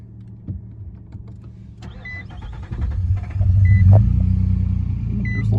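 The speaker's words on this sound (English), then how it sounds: "let's fire it up real quick and see if there are more lights come on" A pickup truck that had shut off and is leaking fluid cranks and starts, a rough rumble swelling into a steady idle with small clicks and whirs before it, heard close up.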